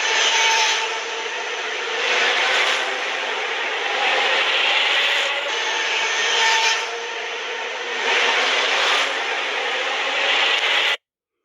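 A Bafang mid-drive e-bike motor fitted with a new nylon gear spins steadily, giving a continuous whirring drone with gentle repeated swells in loudness before stopping abruptly.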